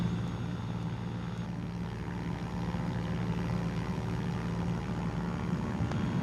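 A Cessna 210 light aircraft flies over hills in Malawi, its piston engine and propeller droning in a steady, loud, continuous hum heard from inside the cabin, with no talk.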